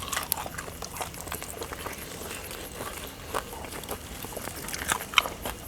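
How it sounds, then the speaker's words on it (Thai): Crispy deep-fried pork leg is bitten and chewed close to the mic, with scattered crunchy cracks and wet chewing over a low, steady background. "หมูกรอบนะ กินกับน้ำจิ้ม ซีอิ๊วหวาน"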